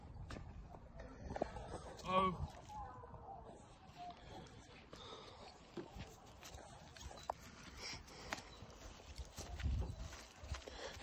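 Hooves of a stud horse in training, faint irregular thuds and scuffs scattered across a quiet open-air setting, with people talking at intervals.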